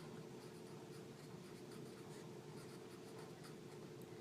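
A pencil scratches steadily across paper as words are written, a faint, continuous close-up scraping with no one speaking.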